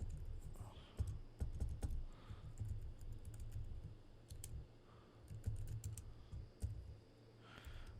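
Typing on a computer keyboard during a digital logic lesson, with fast irregular clicks and clacks of keystrokes close by in steady bursts over a low background hum.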